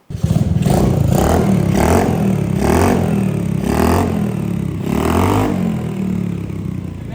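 A Honda Navi motorcycle with a modified exhaust, baffle still in and carburetor untuned, fires up close by and revs in a series of repeated rising blips, each swelling and falling back to a steady idle.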